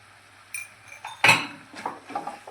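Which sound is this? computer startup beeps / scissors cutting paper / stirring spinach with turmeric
stirring spinach with turmeric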